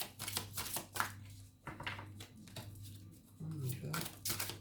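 Oracle cards from an angels-of-love deck are shuffled and drawn, giving a run of quick papery riffles and soft slaps in close, irregular bursts beneath steady talking.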